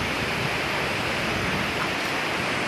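River water flowing at night, a steady broadband rush with no pauses, close and fairly loud, with no voices.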